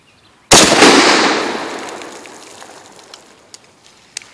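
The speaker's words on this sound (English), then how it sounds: "I'm going to shoot it, the SKS." A single loud SKS rifle shot fired outdoors at a river, a sharp blast at the start followed by a long echoing decay, with a few faint distant pops afterward.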